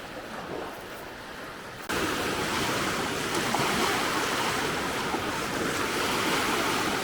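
River water rushing past a beach at New River Gorge in West Virginia, a steady close wash of flowing water that grows louder after a brief quieter start, with wind buffeting the microphone.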